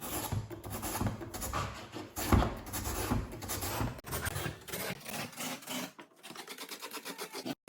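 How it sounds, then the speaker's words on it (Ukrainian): A carrot being grated on a Korean grater for a green tomato salad produces rhythmic, close rasping strokes in a steady back-and-forth pattern that stops near the end, leaving a short quieter tail. "моркву будемо натирати на корейській терці"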